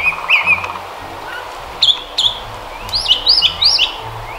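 A brown thresher sings a string of short, varied phrases: sharp chirps, whistled notes and quick rising slurs, fairly clear against a quiet background, with brief gaps between the bursts.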